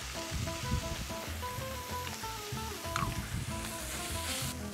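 Sausage with diced garlic and chipotle powder sizzles on a grill in a steady, moderately quiet hiss with scattered small pops, and no one speaks.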